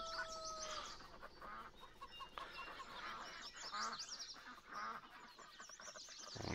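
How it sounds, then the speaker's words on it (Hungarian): Farm poultry in Farming Simulator 22 honk, cluck and quack in a busy overlapping chorus, faint and continuous throughout, with no talk over it. "Itt is van az egyik kis kacsa."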